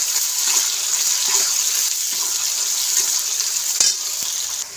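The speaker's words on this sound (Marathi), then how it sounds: "छान कांदा परतून घेऊया." Finely chopped onion sautés in a pan, a steady sizzling hiss broken by occasional scraping stirs, close and fairly loud, with no talking.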